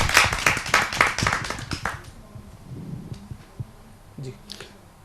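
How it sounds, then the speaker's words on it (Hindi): A seated audience at a Hindi poetry gathering claps to welcome a retired ADC. Brisk, close, rhythmic clapping lasts about two seconds, then dies away to a few scattered claps and quiet room noise. "आइए जोरदार ताली से इनका स्वागत करें।"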